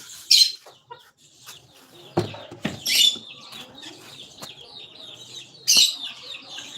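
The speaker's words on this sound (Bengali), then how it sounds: "দেখুন দেখুন মুরগি বাচ্চাগুলো আমার" A hen clucks alongside her chicks, with sharp high peeps in a few short bursts and softer low clucks between them, fairly close and with no talking.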